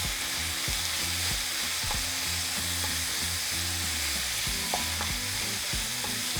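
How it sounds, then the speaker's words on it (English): Seasoned taco beef with cayenne, cumin and salt fries in a pan while being broken up, a constant loud sizzle with rhythmic scraping and tapping of a utensil close by, no voices. "now we're just going to break down our meat"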